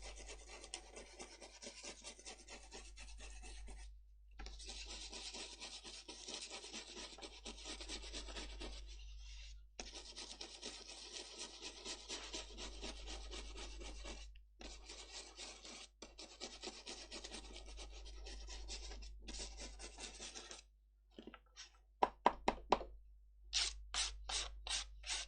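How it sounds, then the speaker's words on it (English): Foil burnished onto a watercolour Christmas card by rubbing, a continuous close scratchy rasp in long strokes broken by brief pauses, ending in a few quicker, sharper scrubbing bursts. "So just go over it, burnish it on, and get rid of the bits that aren't sticking on."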